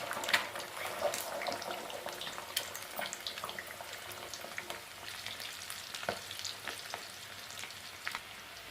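Eggs frying in a pan to a crisp golden brown, with steady close sizzling and crackling throughout plus occasional scraping stirs, no voices.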